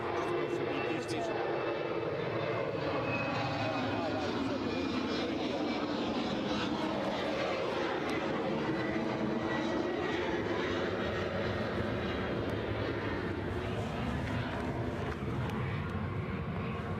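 An Airbus A321 airliner at Edinburgh airport roars steadily as it peels away overhead. The broad, continuous engine rumble holds a constant loudness throughout.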